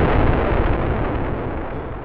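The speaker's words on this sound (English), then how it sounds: "The explosion created a cloud of white dust and shattered the church's stained glass windows." A bomb explodes at a church in Birmingham, a loud, dense roaring blast that fills the whole moment and then slowly fades.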